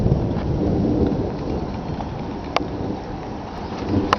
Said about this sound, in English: I just love hearing the thunder.